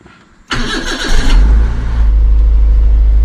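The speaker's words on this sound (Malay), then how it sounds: "sekarang ni kita start kereta" Car engine cranking and catching at about half a second, then settling into a steady, loud idle close by, heard while checking a car whose air-conditioning compressor is not running.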